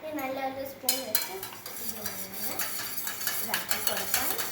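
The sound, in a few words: stirring salt and sugar into lime juice with a spoon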